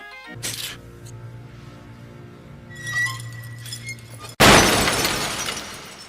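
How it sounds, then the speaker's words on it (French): A chandelier comes crashing down with a sudden loud burst of shattering glass, followed by a dense spray of breaking fragments after a quieter stretch of tinkling and a low hum. "le mec, il est mort écrasé par un lustre"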